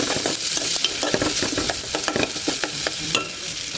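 Ground spice paste frying in oil in a pan for a chicken and radish curry, with loud continuous sizzling broken by repeated sharp scraping clicks of stirring, close and without talk.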